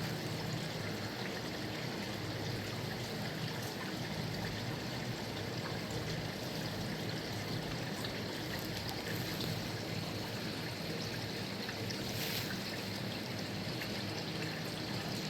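A creek runs through an indoor regenerative pond garden, heard as a continuous close, even wash of flowing and trickling water with no pauses or voices.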